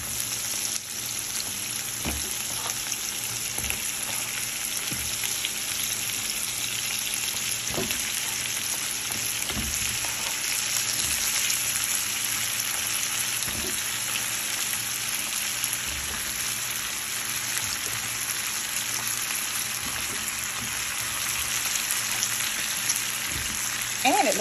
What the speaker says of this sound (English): now I'm going to add in the zucchini and squash and turn the heat down to a medium heat.